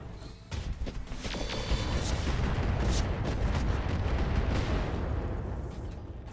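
Heavy mech weapons fire on a Javelin mech in the RogueTech BattleTech mod, a loud sustained barrage of booming artillery-like blasts and crackling impacts that swells and rolls on without talk.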